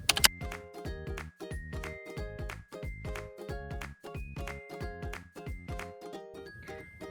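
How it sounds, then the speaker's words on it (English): Computer keyboard typing in a school setting: a string of quick, evenly spaced key taps with brief pauses, fairly close and moderately quiet, with small chiming tones over the clicks and no voices. "I'm getting hungry from all this typing"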